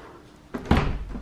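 An indoor door shuts with a soft push followed by a solid thump and a short rattle, a single close, fairly loud closing with no voices.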